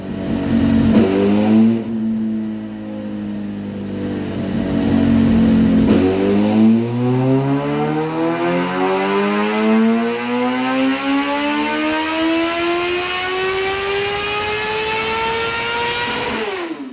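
A Suzuki GSX-R 750 K8 four-cylinder sport bike runs on a workshop dyno, its engine dipping, then climbing in one long, steady, loud rev from low rpm to a high scream before easing off.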